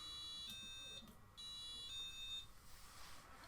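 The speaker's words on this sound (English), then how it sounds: "it's not going to stop the alarm" A micro:bit room alarm emits a shrill, high electronic tone in repeated on-off pulses, steady and moderately quiet, with no voices.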